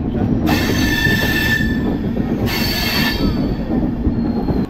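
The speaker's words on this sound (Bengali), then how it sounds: "আমাদের ট্রেন এখন গয়া জংশনে ঢুকছে।" The 13152 Jammu Tawi Express rolls into Gaya Junction station, loud and close, its wheels screeching in two long high squeals over a steady low rumble of the carriages.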